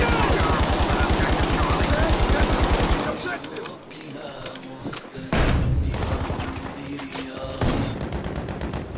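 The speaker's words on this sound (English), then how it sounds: "Now I pull out my submachine gun and make them think." Rapid submachine gun bursts in Battlefield V, dense and loud for the first three seconds, then scattered shots and a few later bursts over battlefield noise, with voices talking over the combat.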